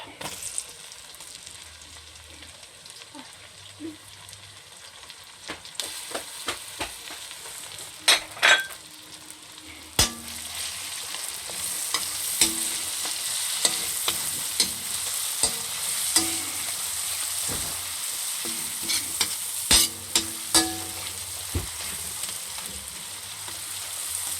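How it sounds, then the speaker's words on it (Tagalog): Onion sautés in a pan for a seafood sotanghon dish, a moderate sizzle broken by repeated sharp clinks and scrapes of a spatula against the pan, growing busier toward the end. "lagyan na natin tong sibuyas"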